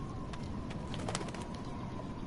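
Pigeon-like birds coo softly in Life is Strange, a few gentle calls repeating over a steady ambient hiss and low background rumble, fairly distant and quiet.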